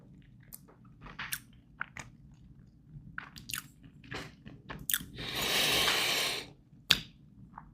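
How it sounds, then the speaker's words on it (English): Close-up chewing of MRE beef ravioli in meat sauce: soft wet bites and mouth clicks, a longer squishy crunching burst in the middle, then a final sharp click. "I'm gonna get a few of them in a spoon and I'm gonna take a bite."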